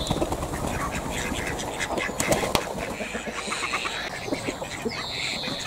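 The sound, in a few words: ducks quacking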